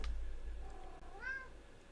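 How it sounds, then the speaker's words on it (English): A cat meows once, a clear rising-and-falling cry at moderate distance over a low steady hum, with no talking. "The cat is very vocal."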